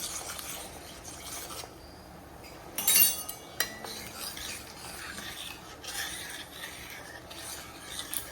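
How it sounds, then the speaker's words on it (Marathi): A spoon stirs melted jaggery in a pan for modak filling, giving quiet scraping and rubbing with a few metallic clinks, one brief louder scrape, and no talking. "त्याला आपण असं मिक्स करून घेऊयात"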